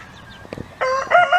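A rooster crows loudly and close by among backyard chickens, with softer hen clucks and calls just before it.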